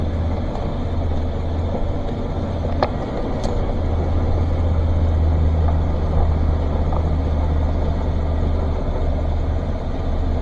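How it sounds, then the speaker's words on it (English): A Chevrolet Express 2500 van idles with a steady low engine rumble while slowly backing up, close and constant, with a couple of faint clicks and no talking. "that, my friends, is how you watch someone very painfully back up a van"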